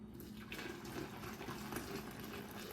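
Boiling water pouring over sugar for lemon tea, a steady close splashing stream running throughout without a break.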